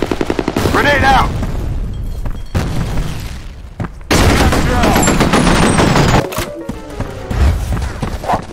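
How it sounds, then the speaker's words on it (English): Grenade blast amid a firefight in the shooter FEAR: rapid gunfire and a heavy boom with a sudden loud surge, shots crackling around it and combat voices calling out in between. "Fire in the hole. Grenade out."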